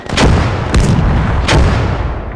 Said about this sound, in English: we are getting artillery support now